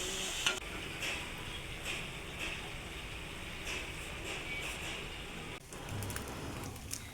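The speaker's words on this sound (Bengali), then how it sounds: "মটরশুঁটি, লাউয়ের খোসা দিয়ে একটা সবজি ভাজা হচ্ছে" Vegetables fry in a pan, a mix of potato, peas and bottle gourd peel, giving a soft, even sizzle with faint stirring clicks, fairly quiet, with a brief dip near the end.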